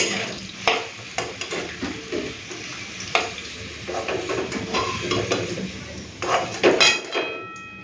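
Katla fish belly pieces and potato frying in hot oil in a pan, a steady broadband sizzle broken by repeated stirring scrapes and clinks of a utensil against the pan, close and fairly loud.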